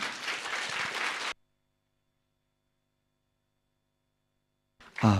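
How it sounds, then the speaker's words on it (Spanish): A brief burst of applause from a church congregation at a Sunday service, about a second of close, dense clapping that cuts off into silence before a voice starts at the very end. "recibimos con un fuerte aplauso"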